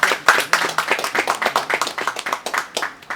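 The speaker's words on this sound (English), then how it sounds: "let's clap for him." A small group claps together, a quick, even patter of hands for a few seconds, close by and fairly loud.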